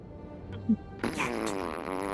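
A short, low fart sounds once, followed by louder general noise and movement.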